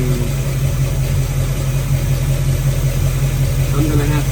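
A car engine idles steadily and close while its distributor is being adjusted for timing, a loud continuous low rumble with an even throb throughout.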